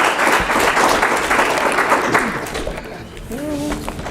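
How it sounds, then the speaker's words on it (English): Warm audience applause at a youth dialogue on ethical leadership, a dense crowd clapping that thins toward the end, with a voice starting to speak as it dies down. "Please give her a warm round of applause."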